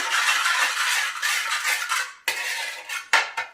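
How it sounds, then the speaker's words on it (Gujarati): A spoon briskly mixes oil and baking soda in a bowl, with continuous close metallic scraping and clinking that pauses briefly and ends in a few sharp taps. "ઊંધી ચમચીથી સેજ એટલા કે આપણે બેકિંગ સોડા નાખીએ છીએ. મિક્સ કરી લઈએ."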